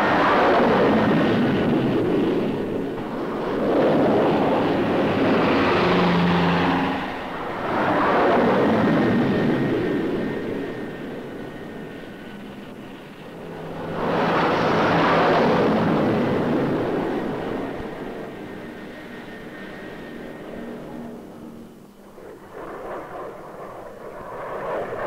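Jet aircraft roar on a U.S. Navy Seventh Fleet carrier in the Western Pacific, a loud sustained engine rush that swells and fades in several passes over about twenty-five seconds.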